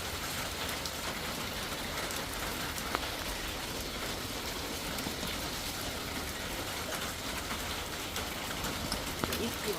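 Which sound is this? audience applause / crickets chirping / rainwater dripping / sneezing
rainwater dripping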